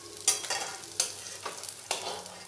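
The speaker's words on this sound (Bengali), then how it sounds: "মাছগুলো খুব ভালোভাবে ভাজা হয়ে গেছে।" Fish fries in hot oil in a home kitchen, a steady crackling sizzle broken by sharp scraping strokes of a spatula stirring the pan every half second or so, with no voices.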